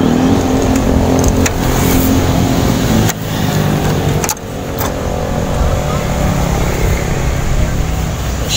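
A 1995 micro bus's old engine runs loud and close, a dense steady roar with a couple of brief dips and rises like light revving, while people talk nearby.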